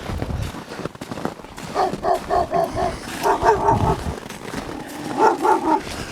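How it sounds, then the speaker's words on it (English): A couple of dogs bark repeatedly in a village on a snowy hillside, in several rhythmic bursts of barks at moderate distance, outdoors over wind and ambient noise. "A couple of dogs here."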